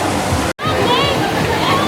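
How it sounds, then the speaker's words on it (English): Steady rushing, splashing water from a waterfall at the Stormalong Bay pool, loud and continuous with a brief dropout, with faint voices mixed in. "and then you've got a waterfall here."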